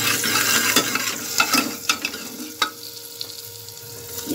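Chillies, coriander and spices fry in a pan, crackling and popping close up in irregular bursts over a soft sizzle, with stirring scrapes.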